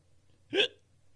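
A single short, sharp hiccup from a person, close and clear, over faint low background hum.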